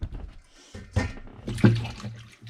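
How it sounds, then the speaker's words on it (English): Turnips being rinsed under running water in a kitchen, with short splashy bursts of water and handling noises close by, uneven and intermittent. "I'm washing the turnips right here"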